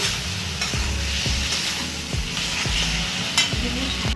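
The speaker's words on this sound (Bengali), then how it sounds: "এবারে আবারও ভালো করে এটা কষিয়ে নিতে হবে" Spices with turmeric and red chili powder fry in a pan for a thin Bengali fish curry, giving a steady close sizzle broken by regular scraping strokes of a spatula, with no voices.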